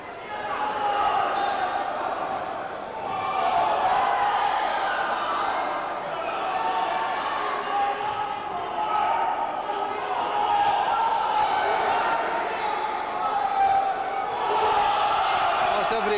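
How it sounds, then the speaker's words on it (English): Crowd at a boxing bout between Rob Burton and Arv Mittoo roars and cheers continuously, swelling with each flurry of punches, with the dense, loud noise filling the arena throughout. "every punch that Rob Burton throws and lands is getting cheered wildly by the crowd"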